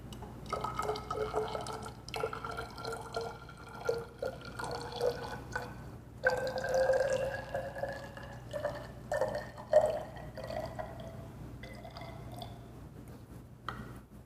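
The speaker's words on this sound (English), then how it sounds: "I will then add the water to the soil" Water added to a soil sample for an unconfined compression test produces quiet, irregular trickling and dripping that comes and goes in short bursts, with no talk.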